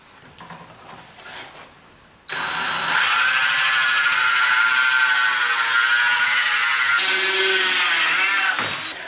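A small hole saw bores into wood on a segmented woodturning jig, a steady loud whine that starts abruptly after a quiet moment, holds for several seconds and winds down at the end.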